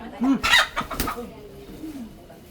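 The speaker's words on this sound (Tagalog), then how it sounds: "Daming manok." Chickens cluck and squawk nearby in a short burst, with a few sharper calls early on, then quieter background clucking.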